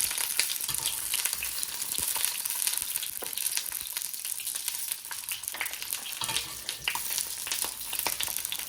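Eggplant and fish frying in hot oil, a dense continuous crackle and spatter with popping bursts throughout, close up and fairly loud, without talking.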